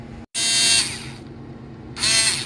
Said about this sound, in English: a drill where I don't have to sit down here doing it manual